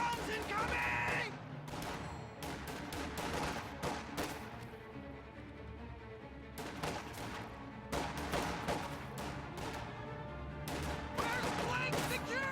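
Gunfire in a World War II strategy video game: repeated sharp shots and bursts from rifles and machine guns, dense and irregular, with a voice talking over the battle.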